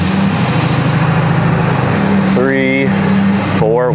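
A diesel pickup truck with a 6.7 engine drives and shifts through its gears, a steady loud engine drone with rising whine as revs change, while people talk over it.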